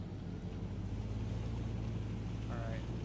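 An airdropped vehicle in the video game H1Z1 gives a steady, low engine drone close by. It holds even and fairly quiet throughout, with a brief faint tonal sound near the end.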